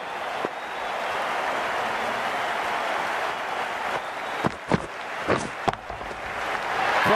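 An excited crowd at an Australia versus England cricket match roars steadily, with sharper bursts of clapping and shouts rising near the end.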